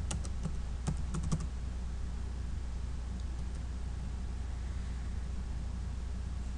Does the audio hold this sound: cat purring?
no